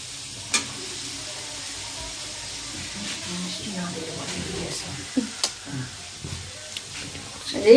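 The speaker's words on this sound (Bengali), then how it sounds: "এবার এটাকে আমি ভাজা ভাজা করে নামাবো" Fenugreek greens with brinjal and a pinch of sugar frying in a pan over a high gas flame, giving a soft, steady sizzle with scattered stirring scrapes and clicks, faint throughout.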